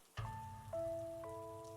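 Rain falls in a horror radio drama as a steady, close hiss of pattering drops. Sustained eerie tones enter one after another and layer over it.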